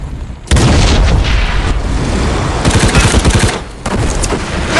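A grenade explosion in a multiplayer team deathmatch shooter game, a loud sudden boom amid heavy continuous gunfire and machine-gun bursts, close and intense throughout.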